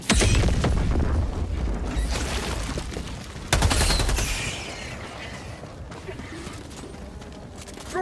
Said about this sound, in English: Pulling in orbital strike!